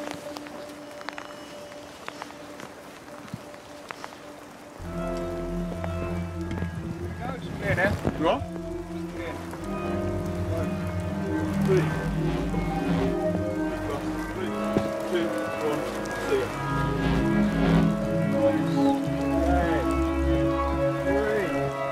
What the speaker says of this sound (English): It's clear, but it's raining.